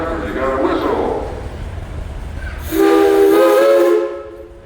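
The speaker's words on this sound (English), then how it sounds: "Mr. Ruffner, you got a whistle." A restored steam traction engine at a parade sounds its whistle, a loud sustained tone lasting over a second that then cuts off, after a stretch of crowd noise and talk.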